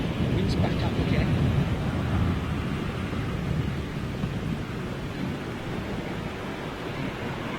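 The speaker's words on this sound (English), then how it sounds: "Wind's back up again." Strong Storm Ellen winds at Heathrow Airport make a dense, roaring rush. It is loudest at first, then eases slightly and stays steady, with no clear speech.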